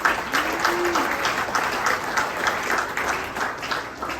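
Audience applause at the 2023 AVCA All-America social reception honouring collegiate volleyball players, a steady, dense wash of clapping from a crowd that carries on throughout, with a brief voice heard faintly early on.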